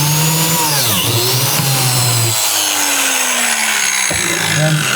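A biscuit joiner's electric motor whines loudly as it plunges into wood. The pitch sags and recovers across two brief dips, and the motor stays steady and close throughout.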